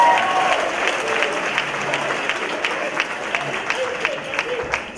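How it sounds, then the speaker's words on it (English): An audience claps for a small choir coming on stage, a steady wash of applause with individual sharp claps standing out, moderately loud and continuous, with faint voices mixed in beneath. "Give them a big round of applause."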